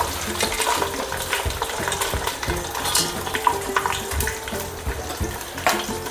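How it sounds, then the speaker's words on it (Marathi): Peanuts and split gram sizzle in hot oil in a pan while making thin poha chivda, a steady crackling frying hiss with occasional stirring clinks, close and fairly loud throughout. "शेंगदाणे टाकून घेते, शेंगदाणे आणि डाळवा एकत्रच टाकते।"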